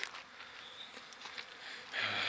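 Honey bees flying out of hives near a house on an orientation flight, a faint, thin buzzing swarm passing close at times against a soft outdoor background, with no talk.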